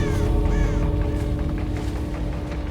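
A crow caws in Dead by Daylight, a few rising, nasal calls over a steady droning game ambience.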